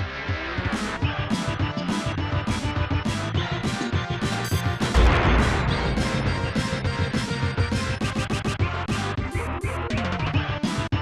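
Orchestral soundtrack music from a Super Famicom video game plays dense and loud, with steady rhythmic percussion hits, full sustained layers and a brief crash-like swell midway.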